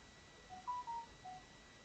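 A mobile phone gives a quiet electronic alert, a short run of four soft beeping tones in about a second, faint and isolated against a low hiss with no talk.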